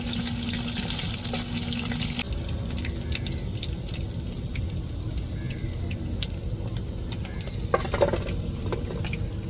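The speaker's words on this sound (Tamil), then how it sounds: "பாருங்க இறாலை பொரிச்சு எடுத்தாச்சு." Prawns fry in hot oil in a home kitchen, making a steady, dense sizzling hiss that runs unbroken throughout, with a few faint utensil clinks near the end.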